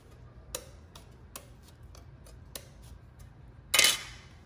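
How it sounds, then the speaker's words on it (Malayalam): Knife strikes on a cutting board while a beetroot is chopped very finely for kichadi, heard as a few sparse, sharp taps spread out and then one louder, brighter chop near the end, close up with no talking. "കിച്ചടിക്ക് തീരെ ചെറുതായിട്ട് കൊത്തി അരിയാം."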